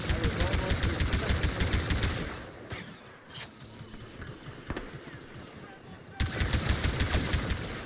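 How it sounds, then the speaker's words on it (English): Rapid bursts of blaster-style gunfire in Star Wars Battlefront II co-op on the Sandy Oasis map, fast trigger-pulled shots in quick repeating volleys that pause mid-clip and then resume loudly. "I love his gun fires as fast as you can pull a trigger, because I can usually pull it pretty fast"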